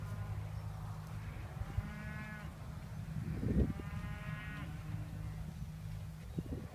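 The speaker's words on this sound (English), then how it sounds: "Brangus heifers." Brangus heifers at a cattle sale give a few low, moderately distant moos and bawls over a steady background hum of the sale barn, with no talking during the calls.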